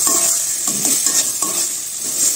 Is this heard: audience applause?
no